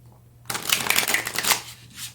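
Tarot cards shuffled by hand, a dense papery riffling that starts abruptly after a brief quiet and runs steadily for about a second and a half before thinning out, close and fairly loud.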